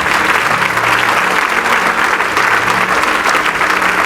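Congregation at a church service applauding loudly and steadily, a dense wash of clapping sustained throughout, with low musical tones from instruments or organ underneath and no talking.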